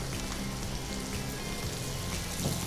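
Chicken frying in hot oil at home, with more oil poured over the top, gives a steady, dense sizzle. The crackle holds at an even loudness for the whole stretch, close and continuous, with no talk.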